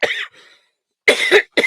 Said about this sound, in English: And coughing all over the place.